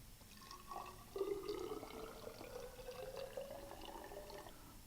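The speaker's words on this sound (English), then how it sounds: "we will pour the water into a graduated cylinder." Water poured from a lab flask into a graduated cylinder, a soft continuous trickle and gurgle with a rising fill tone, faint and close, no talk.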